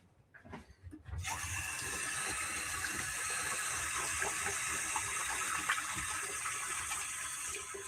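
Tap water gushes steadily into a sink to wet a mold, starting abruptly after about a second of quiet handling noises, then running loud and continuous to the end with no talking.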